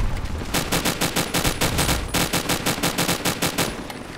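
In Fallout New Vegas, loud sustained automatic gunfire is sprayed at a building as an even, rapid string of shots that runs for about four seconds without letting up. No voices are heard.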